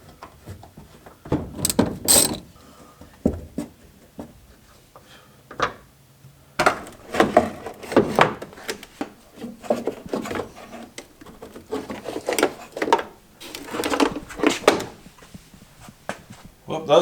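Tabs on the back of 35-year-old car light housings are worked loose with a ratcheting tool, giving irregular clicking ratchet bursts and plastic rattles up close, with scattered handling noises between them.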